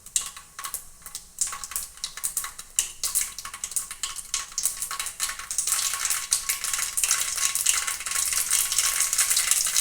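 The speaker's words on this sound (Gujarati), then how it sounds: "તેલ મૂકી દીધું છે તપવા અને હવે આપણે નાખીશું રાય જીરું" Mustard seeds and cumin hit hot oil in a pan, starting with scattered crackles and pops that build into a dense, continuous sizzle, alone and close by.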